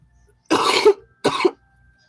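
Two harsh, close-up coughs, each a breathy burst about half a second long, separated by a brief pause in an otherwise quiet room.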